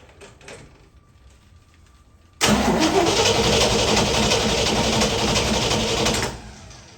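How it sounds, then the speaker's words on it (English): A 1969 Chevy C10 engine cranks and catches about a third of the way in, then runs loud and steady at a cold idle for several seconds before cutting back to quiet, with no talk. "we're gonna start this vehicle, see how the engine's performing"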